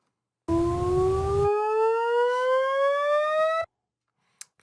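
Desmos graph played as audio: a single electronic tone sweeping steadily upward in pitch for about three seconds, clean and alone, then cutting off.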